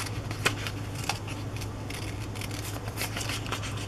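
Scissors snip through 1940s magazine paper up close, a few crisp cuts standing out against soft rustling and faint crinkling of the pages, quiet and without talking.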